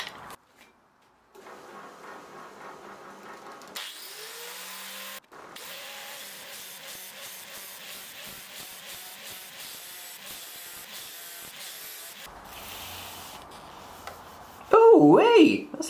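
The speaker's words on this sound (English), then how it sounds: "let's go back on the flap disc sander and see how we go" Flap disc sander grinding a brake disc rotor spinning on a wood lathe, a continuous raspy scraping hiss with a steady motor whine, pausing briefly before resuming, with a sharp voice burst near the end.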